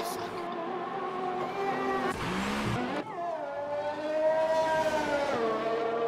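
Race car engines in the F1 2018 video game at Brazil, loud and continuous, with rising and falling revs and a brief rougher burst partway through, no talk.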